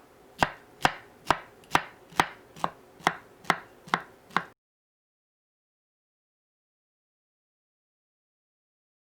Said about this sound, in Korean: 파인애플을 잘라주세요.